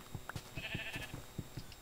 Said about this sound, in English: these sheep are in my way